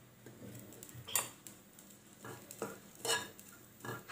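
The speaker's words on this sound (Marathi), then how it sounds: "आपण प्रथम नाही का सुकट भाजून घेऊ। थोडंसं तेल टाकायचं।" Sukat, dried fish, roasting in a little oil while being stirred, with a faint low sizzle under intermittent metal spatula scrapes and clinks against the pan, several distinct bursts, close and quiet.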